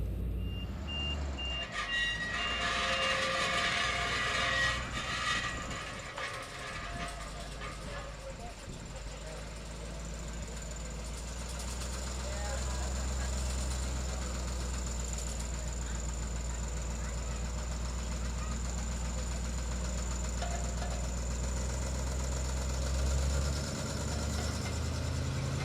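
A steady low tram engine rumble at Dinosaur National Monument runs throughout, with a brief burst of high-pitched beeping and rattling near the start, and faint voices at times.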